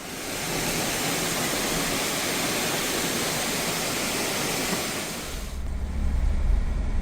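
Floodwater pouring over a low water bridge and river bank on a county road, a loud, continuous broadband roar with a deeper low rumble rising near the end.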